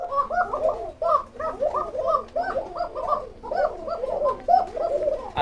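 Lahori pigeons on a farm coo in a steady, overlapping series of soft throaty calls, close and clear throughout, with no voices.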